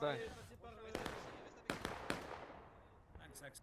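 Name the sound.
musket volley fire in the video game War of Rights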